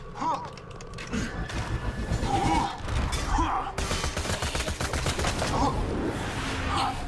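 Gunfire from the video game Borderlands 2, dense bursts of shots and crashing effects running continuously and loudly through the clip, with a brief voice sound early on.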